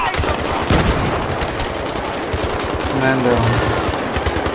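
Rapid machine-gun and rifle fire crackles through a Battlefield 3 firefight, dense and loud bursts layered with explosions while voices shout over the combat.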